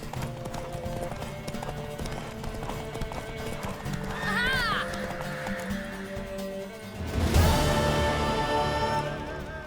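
Rhythmic hoofbeats of a galloping horse in The Witcher 3 video game, with a high whinny midway, layered over music and voices, growing louder toward the end.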